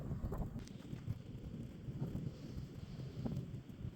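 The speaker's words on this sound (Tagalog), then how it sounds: "still snowing and windy" Gusty wind blowing steadily outdoors during a spring snowfall on a farm, a low continuous rumble with buffeting against the microphone throughout, no voices.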